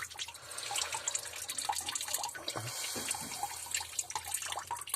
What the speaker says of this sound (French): C'est l'eau qui reste dans les tuyaux